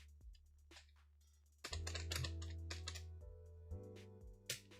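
Keys clatter on a computer keyboard during setup of a newly built PC, a quiet close run of irregular taps and clicks in short bursts with pauses, no voices.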